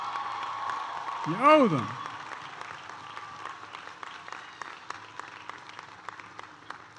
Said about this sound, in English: Stand up and give your parents and your grandparents and those who got you an applause.